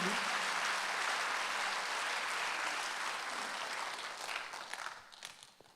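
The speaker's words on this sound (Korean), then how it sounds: "박수 하나 드세요" A church congregation applauds during a Sunday worship service, a full, sustained round of clapping from many people that thins out and trails off into scattered claps near the end.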